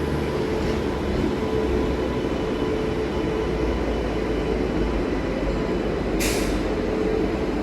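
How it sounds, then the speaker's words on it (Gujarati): A Jabalpur Somnath Express train pulls in at the opposite platform of a station, giving a continuous loud rumble and rolling noise with a short hiss from the air brakes partway through. "સામે જે ટ્રેન આવે છે એ જબલપુર સોમનાથ એક્સપ્રેસ છે"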